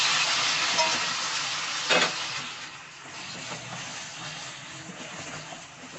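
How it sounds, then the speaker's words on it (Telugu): Chicken sizzling in oil with ginger garlic paste, a steady hissing fry with a few stirring knocks, moderately quiet and close, with no one speaking. "ఇది ఫ్రై అయినాక చికెన్ కూడా యాడ్ చేసుకొని ఫ్రై చేసుకోవాలి."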